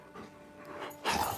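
A dog pants in quick, breathy huffs close by, a short burst that grows louder and rougher toward the end.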